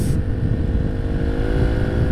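A Yamaha Mio Sporty scooter engine fitted with a Koso KSR Evo 30mm carburetor drones loudly and steadily at a constant pitch, with a rough, continuous hum that never drops away.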